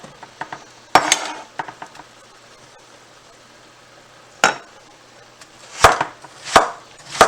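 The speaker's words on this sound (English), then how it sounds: "Just chunk it out, basic chunk slices, making sure there's no seeds in there." Knife chunking zucchini on a cutting board beside broccoli and onion for a beef stir-fry, a few sharp irregular chops with quiet gaps and a cluster of firmer strikes near the end.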